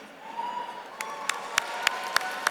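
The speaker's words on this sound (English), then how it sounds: "Can we have a big round of applause for all these young professionals in the house?" Audience applause at the 2023 Outstanding 50 Asian Americans in Business award dinner, a steady moderate patter of clapping with a sustained tone beneath and several sharp louder claps punctuating the second half.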